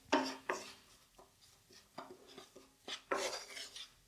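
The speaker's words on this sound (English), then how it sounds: "So as this is stirring in here, a little bit more heat." Dahl stirred in a pot with a utensil, a series of soft scraping knocks and clinks against the pot at an irregular pace, close and fairly quiet, with no talking.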